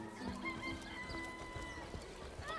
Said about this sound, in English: Here's a random rooster